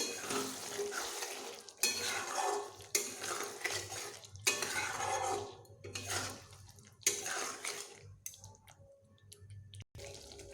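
Paneer being mixed with salt in a pan: repeated spoon-on-metal scraping and stirring strokes in bursts, with a low sizzle underneath and short pauses between strokes.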